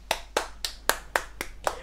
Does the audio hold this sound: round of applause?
yes